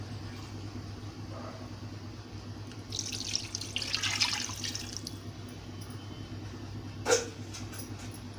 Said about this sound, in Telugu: అర లీటర్లు పోస్తున్నాము